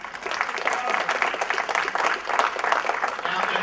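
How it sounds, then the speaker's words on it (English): A burst of applause from a crowd at a Lions Club service summit, steady clapping filling the whole stretch at moderate loudness. "give him a round of applause"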